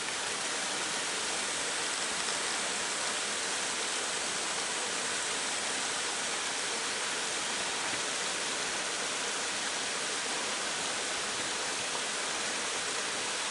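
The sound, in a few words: mountain valley stream water flowing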